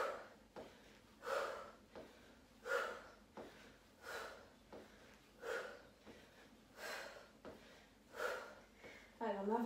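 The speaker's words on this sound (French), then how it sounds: "Vous entendez ma respiration, essayez de faire pareil." Heavy, rhythmic breathing from a woman coaching a cardio workout, about eight forceful breaths at an even pace, each a loud puff close to the microphone.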